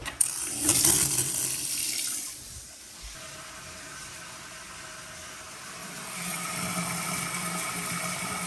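Water rushing through new bathroom sink supply lines after the valves are opened, a steady hiss that eases and then builds again, close by with no talking.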